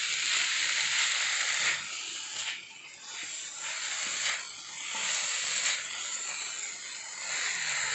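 Chicken seekh kababs sizzle and hiss steadily on a big hot tawa, a continuous bright frying crackle that swells and dips slightly in loudness throughout, with no talking.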